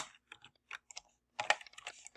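Short, soft bursts of keys clicking on a computer keyboard, quick taps in small irregular clusters separated by brief pauses, close and quiet.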